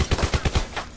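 Rapid burst of video game gunfire in a Call of Duty-style squad match on Alcatraz, six sharp close shots in an even rhythm, then a fainter shot or two trailing off.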